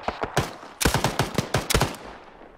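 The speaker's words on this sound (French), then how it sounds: "on se fait mitrailler là" Bursts of automatic gunfire in Arma 3: two short volleys of sharp, fairly close shots, the second longer and denser, trailing off into a brief echoing decay.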